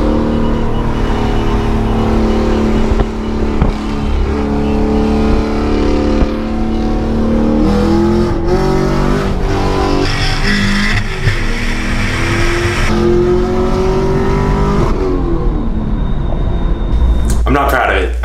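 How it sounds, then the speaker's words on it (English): Cars street racing, with a Chevrolet Camaro SS 1LE pulling away: loud engines rev and accelerate through rising gear pulls, steady roaring throughout, with voices talking over the engine noise. "Here's a video of me getting beat by a Camaro just about a month ago."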